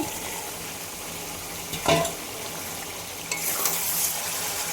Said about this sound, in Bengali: মশলার সঙ্গে চিকেনটাকে ভালো করে কষিয়ে নেব।